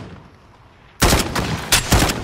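Gunfire from a sniper crackles in a Call of Duty Warzone trios match. After a quiet moment, a loud burst of sharp shots and impacts breaks out, with two more distinct cracks close behind.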